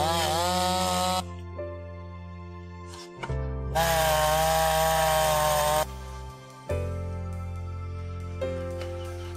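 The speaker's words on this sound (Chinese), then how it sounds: "接着继续切开下一根小一点的木头" A chainsaw cuts through a smaller wooden log outdoors in the wilderness, the engine revving and idling in uneven surges, rising to loud whining bursts and dropping back, with no voices.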